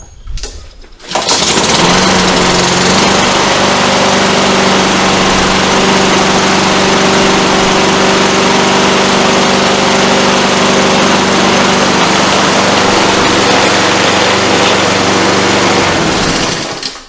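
A freshly repaired lawn mower with a clean deck and newly sharpened blade starts after about a second, then runs with a loud, steady engine drone for roughly fifteen seconds before cutting off.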